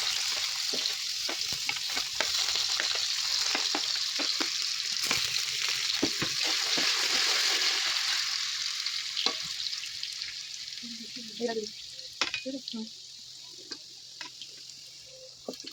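Potatoes stir-fry in hot oil for chow mein, a steady loud sizzle with scattered clicks of stirring; the frying hiss eases slightly toward the end as utensil taps continue.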